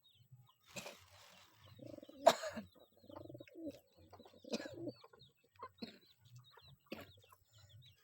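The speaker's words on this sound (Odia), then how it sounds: "କଳା କୁକୁଡ଼ା ଏପଟରେ ପାରା, କଳା କୁକୁଡ଼ା।" Black chickens cluck while pigeons coo nearby in a yard, a series of short, close bird calls and soft gurgling coos scattered over several seconds with no talking.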